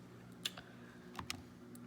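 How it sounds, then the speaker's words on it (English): Several scattered keystrokes on a computer keyboard while entering fractions into an online math exercise, faint and close, with no talking. "So I'm going to type in"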